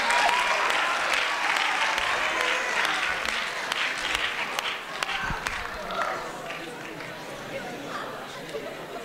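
Audience clapping loudly and steadily for a volunteer joining a presenter on stage, a dense wash of applause with scattered sharp claps and some crowd chatter beneath.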